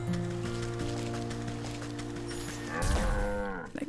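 A cow being milked in the video game Wytchwood lets out a loud, drawn-out moo near the end, over steady tonal game music.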